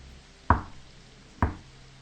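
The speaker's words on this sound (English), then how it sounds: "The knocking repeated, more insistent this time." Two firm knocks on a door, about a second apart, each a sharp solid thud with a short decay, heard alone over a quiet background.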